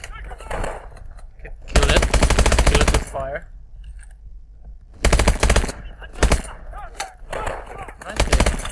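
Gunfire in the video game Call of Duty: Advanced Warfare: loud bursts of rapid automatic fire come in repeated stretches, with quieter gaps and game sounds in between and a voice talking at times.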